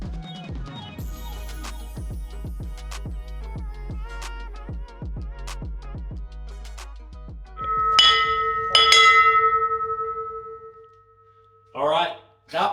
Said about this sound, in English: that was our new bell that we've had installed, and that was the first time we've got to ring it